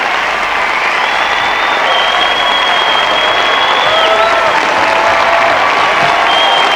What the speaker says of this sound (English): Jill Chenry leading the applause, and everyone is standing.